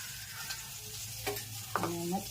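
Spices crackle in hot oil for a tempering while making stuffed brinjal curry. The quiet, steady sizzle is broken by a few sharper bursts and stirring sounds, with no talk.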